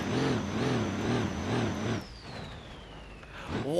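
A car drifting in the BeamNG.drive driving simulator, engine revving in a rising, wavering roar with a whining tone, then dropping away into a sliding, fading whine.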